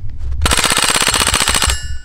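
A full-auto rifle fires one rapid burst during its first rounds, loud and close, with dense evenly spaced shots for just over a second before a brief ringing tail.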